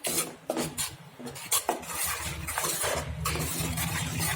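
Tomato curry stirred in a pan with a metal spoon, a run of close scraping and clinking strokes over a soft sizzle, with no voices.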